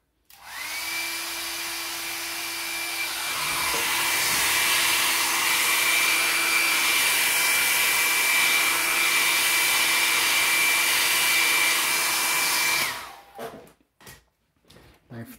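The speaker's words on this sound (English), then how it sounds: "I'll just blast it with a hairdryer to dry." A hair dryer blasts a silver base coat of paint dry on a model weapon, a steady loud whining rush that runs for about twelve seconds and then cuts off, followed by a few faint handling clicks.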